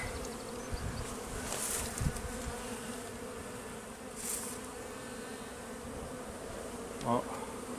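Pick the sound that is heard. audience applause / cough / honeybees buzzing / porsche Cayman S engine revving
honeybees buzzing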